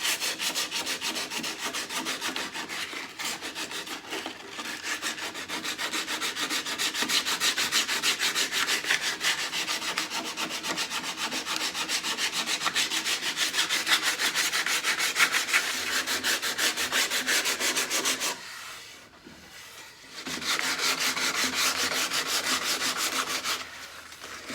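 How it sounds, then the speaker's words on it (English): Sandpaper rubbed hard by hand over wood filler and rounded table corners, a steady, close, continuous scratchy rasp with a short pause near the end before sanding resumes. "You may notice I'm being a little aggressive with the sandpaper here."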